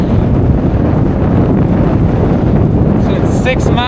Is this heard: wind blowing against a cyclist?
yes